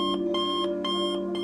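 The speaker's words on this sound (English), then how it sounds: "got up to the sound of her alarm" An alarm clock rings with a steady electronic tone pulsing in regular bursts, loud and close, with no other sounds.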